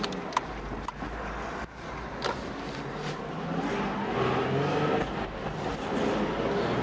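A manual-gearbox Nissan 350Z with a 300-horsepower engine pulls away on a small road, its engine note rising steadily and staying loud and close through the whole stretch, with no talking over it.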